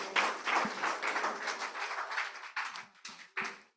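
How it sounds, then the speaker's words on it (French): Church congregation applauding during a Sunday service, a dense, steady patter of many hands that breaks into a few separate bursts before stopping. "On peut applaudir le Seigneur."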